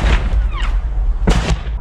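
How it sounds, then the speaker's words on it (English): A mortar round whizzes in with a brief rising whistle, then bursts with a loud, close boom over a heavy low rumble. "Moving on to mortars, they're going to make a deathly whizzing sound when it's right over you"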